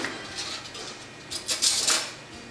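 A spoon scrapes soft cream cheese around a bowl in a few short, close strokes, with soft clinks against the sides and no talking.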